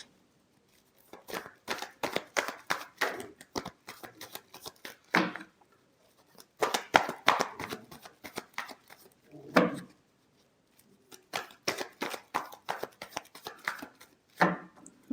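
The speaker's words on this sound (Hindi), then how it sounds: "Last shuffle." Tarot cards are shuffled in repeated bursts of quick riffling flicks and rubbing card noise, close and crisp, with short pauses between rounds and no talking.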